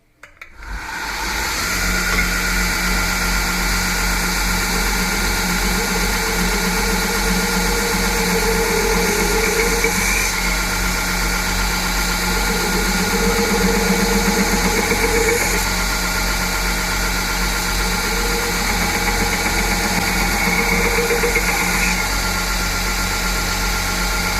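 A belt grinder rough-grinding a bowie knife blade runs with a steady motorized whine and hum after a quick start-up, with faint grinding variations, no voices.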